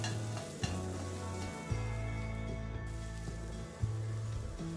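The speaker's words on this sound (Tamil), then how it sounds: "இந்த இஞ்சி பூண்டு பேஸ்ட்டும் வெங்காயமும் நல்லா வணங்கணும்." Onions and ginger-garlic paste sauté in a pan over a medium flame, a steady close sizzle with a few sharp stirring clacks of a spoon against the pan spaced through it.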